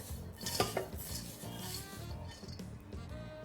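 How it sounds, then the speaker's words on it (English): Green onions and bean sprouts being tossed in a hot wok, giving a steady scraping, rustling stir with light metallic clinks throughout, close and continuous with no talking. "a little bit of the green onions, and the bean sprouts. Just toss them up in a hot wok."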